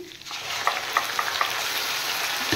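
Onion paste sizzles loudly as it goes into a pan of frying onions, a steady bright hiss broken by a few scraping stirs.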